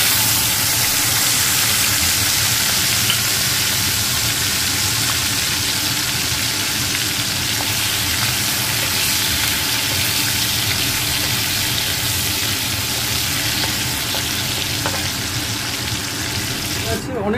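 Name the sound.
prawns frying in hot oil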